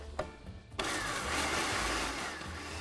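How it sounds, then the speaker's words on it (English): A food processor pulses rolled oats: after a brief click, the motor kicks in with a loud, steady whirring grind that runs for about two seconds, close and with no talk. "we're actually gonna pulse those just a little bit to get them chopped up"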